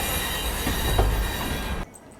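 A special passenger train arriving at a station in India, wheels grinding and squealing on the rails in a steady, loud rumble that cuts off abruptly near the end.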